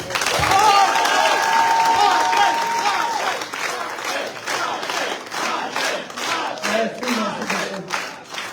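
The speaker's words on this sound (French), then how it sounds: "je vous prie d'applaudir très fort notre ex-députée, Madame Rachel Keke" Crowd at an evening political gathering applauding and cheering for former deputy Rachel Keke, loud and dense at first, then thinning into choppier, uneven clapping with voices calling out.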